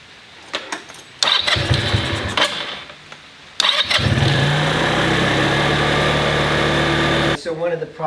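A Genuine Buddy 125 scooter engine cranks with a few short starter bursts, catches, and settles into a loud, steady, high idle close by, with brief voices around it.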